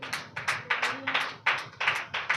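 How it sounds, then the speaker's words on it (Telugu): Congregation clapping loudly in unison during a church holy communion service, a steady rhythm of about eight sharp bursts of handclaps with no talk over them. "గట్టిగా చప్పట్లు కొట్టండి."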